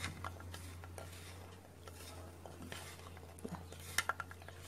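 Dried fruits tossed with wheat flour in a bowl for a plum cake, a quiet soft rustle and stir punctuated by a few light clinks of a utensil against the bowl near the end.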